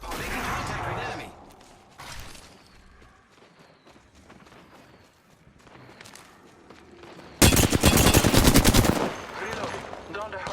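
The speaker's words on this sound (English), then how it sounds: "The enemies are shooting at me." Rapid automatic gunfire in Apex Legends, opening with a burst, then scattered shots and footsteps, before a loud sustained volley of fast shots near the end, close and harsh.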